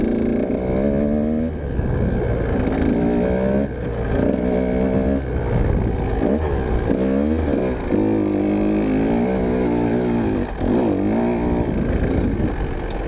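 A dirt bike revs hard in second gear across a yard, its engine droning loud and close with rising and falling pitch sweeps as the throttle opens and eases, steady for over ten seconds.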